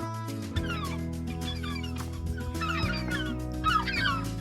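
Many gulls call and squawk over one another in a noisy, busy colony, with overlapping cries close by.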